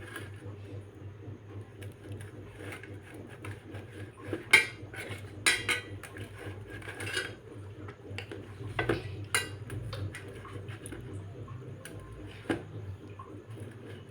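A knife chops boiled black chickpeas into small pieces for chilli, giving scattered light taps and clicks against a board. Kitchen clatter sits underneath, with a few sharper knocks standing out, and a low hum runs throughout.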